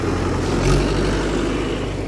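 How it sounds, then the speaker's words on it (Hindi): A Mahindra 575 tractor approaches, its diesel engine giving a loud, close, steady low rumble that swells briefly, with no talking. "चलो भाई अब अपना ट्रैक्टर आ रहा है।"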